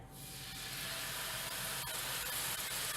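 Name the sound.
pork tenderloin searing in hot pan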